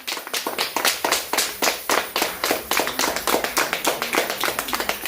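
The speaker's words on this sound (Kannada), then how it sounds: "ಎಲ್ಲ ಚಪ್ಪಾಳೆ ಹೊಡೀರಿ ಒಂದು" A group claps in a birthday celebration at an ashram, crisp, close hand claps falling in a quick, steady rhythm with roughly even accents from start to finish.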